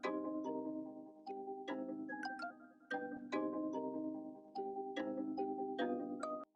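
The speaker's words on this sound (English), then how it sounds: "I'm gonna add the lo-fi echo because" Bouncy electronic beat built in FL Studio with a lo-fi echo effect applied, playing steady chordal synth stabs over rhythmic percussion with repeating trailing echoes, loud and continuous with brief drops between phrases.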